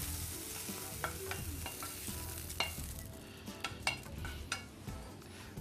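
Chanterelle mushrooms and beef cheek frying in a pan in a restaurant kitchen, with a steady sizzle and repeated light clicks and stirring scrapes of a utensil throughout, no voices.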